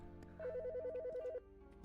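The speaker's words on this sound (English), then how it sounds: "The fucking phone." Phone ringing in the video game Autopsy Simulator: a steady electronic ringtone trilling in a rapid repeated pattern for about a second, fairly loud over a low background hum, then stopping abruptly.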